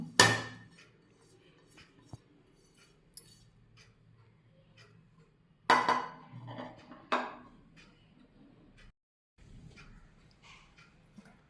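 Spices being mixed and rubbed into wheat flour in a bowl, heard as scattered faint scraping and rustling with a few sharp ticks against the bowl, close and quiet with gaps of silence.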